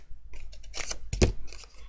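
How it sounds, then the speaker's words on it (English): Long-bladed scissors snip through paper in a few short, crisp cuts, close up and fairly quiet, with a sharper, louder snip near the end. "long bladed scissors will be your friend for fussy cutting shapes like this"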